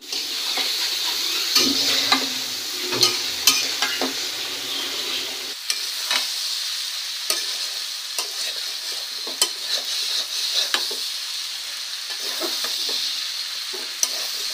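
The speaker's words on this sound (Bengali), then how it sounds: "অনেকদিন পরে শিম আর আলু ভাজি করা হচ্ছে" Green beans and potatoes frying in a pan, a steady close sizzle with frequent sharp scrapes and clicks of stirring throughout, no voices.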